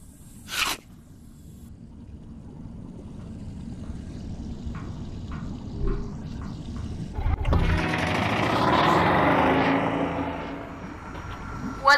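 A submarine engine in the VR puzzle game I Expect You To Die engages for ascent, a low mechanical hum that swells into a loud, sustained whirring rumble after a few brief clunks.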